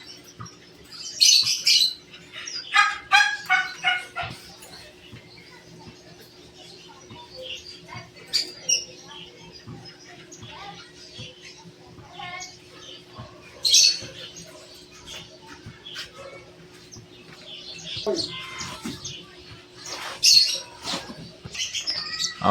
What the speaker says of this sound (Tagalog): So meron ditong apat na Starfinch.